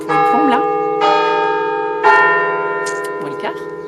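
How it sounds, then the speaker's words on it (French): Church bells ring out in steady, loud, ringing strokes with long resonant overtones that hang between strikes, while voices chat now and then over the tolling. "Ici on entend vachement plus les cloches"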